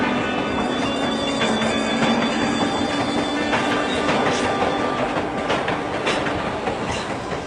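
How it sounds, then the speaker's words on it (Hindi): Train rolling along rails as it pulls into a station platform, steady rumbling with clickety-clack and faint squeals, loud and continuous with no talk. "इसके शहर को जाने वाली ट्रेन प्लेटफॉर्म नंबर 2 पर आएगी"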